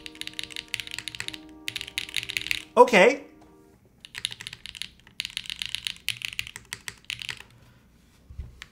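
Typing on a KBDFan KBD8X gasket-mount mechanical keyboard: quick bursts of clacking keystrokes in rapid clusters with short pauses, close and clear, broken once by a brief spoken word.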